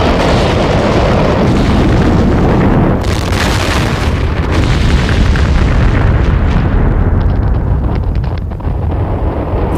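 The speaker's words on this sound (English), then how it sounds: "A series of massive explosions engulf the neighborhoods within a mile radius of the factory." Massive explosions at a burning fireworks factory produce a continuous loud, rumbling roar with a sharper burst about three seconds in, the blasts running together and heard without talk.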